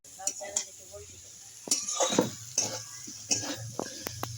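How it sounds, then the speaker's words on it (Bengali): Potato and taro chunks stir-fried with spices in a pan, with soft sizzling under intermittent scraping and clinks of a spatula against metal, while a voice talks over the cooking. "দিয়ে ভালো করে আলু কচুর সঙ্গে কষিয়ে নেবো।"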